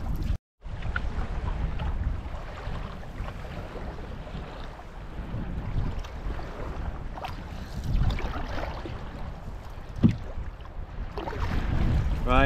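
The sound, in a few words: strong wind on a choppy loch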